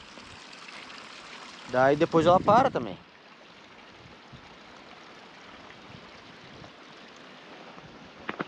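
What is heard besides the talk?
muddy rainwater runoff flowing through the ranch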